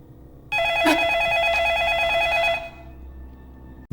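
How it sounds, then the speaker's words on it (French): A telephone rings in the 2004 horror film The Grudge: a loud, steady electronic trilling ring holds for about two seconds and then stops, leaving a low room hum. "Ce n'est qu'un téléphone."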